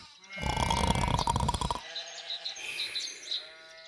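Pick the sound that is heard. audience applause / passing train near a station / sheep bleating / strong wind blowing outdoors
sheep bleating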